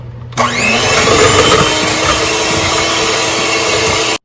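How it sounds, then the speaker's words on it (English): A handheld electric mixer beats butter, egg and sugar for cookie dough, switching on abruptly with a sharp rise and holding a loud, steady motor whine and whir close up for about four seconds before cutting off. "I'm just gonna take my electric mixer, and we're gonna mix this for a little bit"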